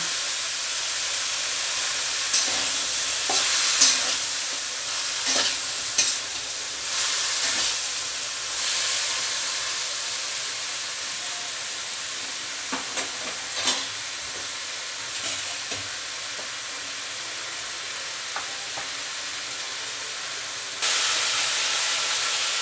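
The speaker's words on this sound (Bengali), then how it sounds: "দেখো পেঁয়াজগুলো আমার আস্তে আস্তে ভাজা হচ্ছে এবং ঢেঁড়সগুলোও আমার নরম হয়ে যাচ্ছে।" Okra and onions frying in a pan, with a continuous loud sizzle and hiss broken by occasional scrapes and knocks of a spoon stirring, steady for over twenty seconds.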